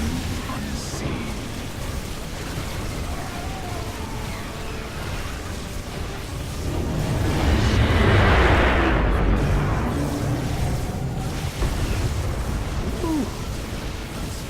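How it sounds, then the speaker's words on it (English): Rumbling explosions in StarCraft II: Legacy of the Void swell into a heavy boom midway, surrounded by a dense wash of battle noise and effects. "Explosions everywhere."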